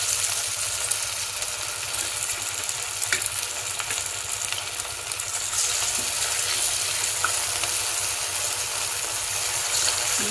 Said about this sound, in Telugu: మనం ఇప్పుడు ఒక్కొక్క పీస్ మంచిగా ఫ్రైలో వేసేసుకుందాం.